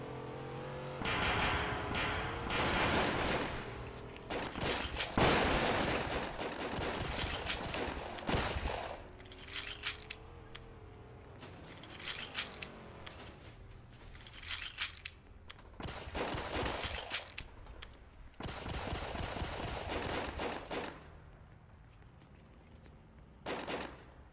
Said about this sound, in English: All I hear is just gunshots everywhere.